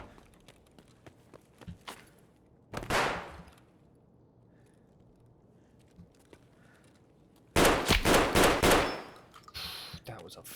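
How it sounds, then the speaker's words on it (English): Muffled game pistol shots, a silenced handgun, sounding as a short burst of sharp clicks around the third second, then a louder cluster of rapid shots near the end, over a low ambient background. "Silenced pistol."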